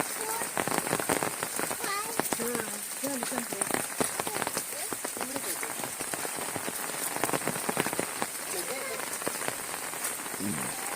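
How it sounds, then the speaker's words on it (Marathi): Stream water flows with a continuous bright rushing splash nearby, steady and full throughout, and a person speaks intermittently over it. "हे बघ का मस्त पाणी वाहत येतं तिकडून"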